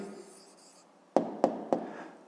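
A pen or pencil writes out a maths answer by hand on paper: a soft, steady scratch, then three sharp, evenly spaced taps close by, with no voice.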